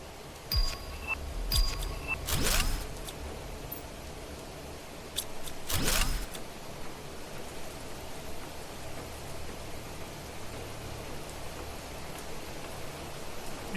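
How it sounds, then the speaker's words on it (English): Heavy rain hisses steadily deep inside a crashed ship in Planet Crafter, broken by a couple of brief, sharp metallic clanks early on. "the sound of rain is so strong this deep in the ship"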